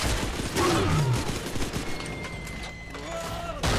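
Shotgun fire in the BioShock 2 video game: a few loud, booming blasts with mechanical clatter between them, set among game effects and someone talking.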